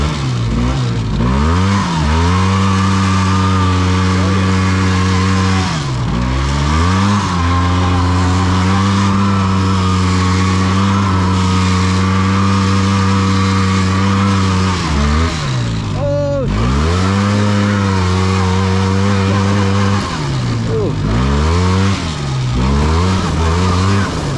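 A utility quad ATV spins donuts in swampy mud. The engine revs hard and near in long, wavering sweeps, rising and falling as it circles, with a brief dip partway through.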